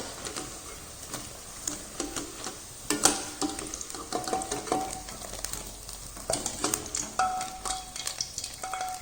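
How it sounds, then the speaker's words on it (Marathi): Potato and carrot snacks frying in hot oil, a soft bubbling sizzle mixed with frequent clicking stirs and scrapes of a utensil against the pan, fairly quiet and close, with no talking. "अशाच पद्धतीने आपण बाकीचं पण तळून घेणार आहोत"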